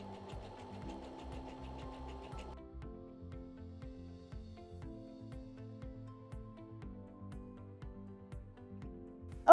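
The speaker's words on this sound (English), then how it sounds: "it's going to stitch the first little scallop with an elongation of 1" A Brother BQ950 sewing and quilting machine stitches scallops in a steady, fast mechanical rhythm with a low hum. The stitching pattern shifts partway through, and there is no talking.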